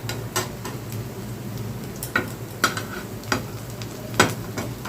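Breakfast food fries in a hot pan with a continuous soft sizzle, broken by several sharp clinks and scrapes of a utensil against the pan, close and without voices.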